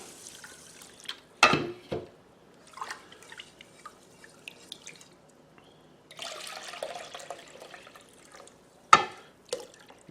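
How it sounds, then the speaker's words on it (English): Rice being rinsed in water in a home kitchen, with scattered drips, sloshes and trickles separated by quiet gaps, a few louder splashes and a longer pour, all close and with no talking. "I'm going to rinse this off a couple of times."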